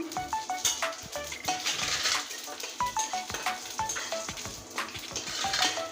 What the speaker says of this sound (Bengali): আর ফোড়নে দেব পাঁচ ফোড়ন